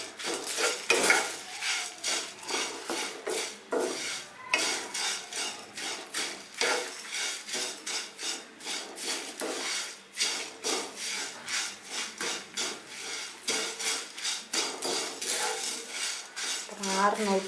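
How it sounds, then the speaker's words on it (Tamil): Curry leaves dry-roasting in a pan on a low flame, stirred and tapped continuously with a spoon, giving a close, dense rhythm of dry rustling scrapes and metallic clinks for the whole stretch. "சிம்மில் வச்சு தட்டிக்கிட்டே இருக்கணும்"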